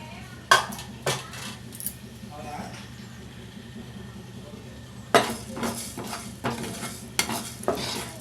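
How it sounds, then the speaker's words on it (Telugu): Spoon clinks and scrapes as fenugreek, cumin and mustard seeds dry-roast in a pan, with sharp metallic taps in clusters over a faint sizzle. "దానికోసం పాన్ పెట్టుకుని అర స్పూన్ మెంతులు, అర స్పూన్ జీలకర్ర, అర స్పూన్ ఆవాలు వేసి వేయించుకుందాం."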